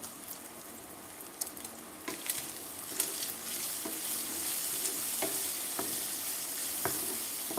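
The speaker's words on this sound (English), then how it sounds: "I got a little bit of diced bacon frying up." Steady sizzle and crackle of diced bacon frying in a pan, with occasional sharp pops and scraping stirs, close up.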